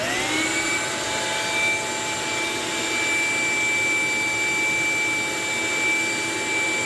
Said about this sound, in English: this is an 8-gallon, 3-horsepower Craftsman shop vac, and we'll see if this thing can handle the startup